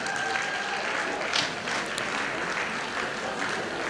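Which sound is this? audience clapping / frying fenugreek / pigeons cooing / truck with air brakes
audience clapping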